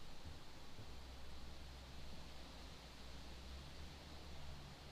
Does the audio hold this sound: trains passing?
no